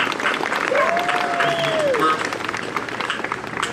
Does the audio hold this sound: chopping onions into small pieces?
no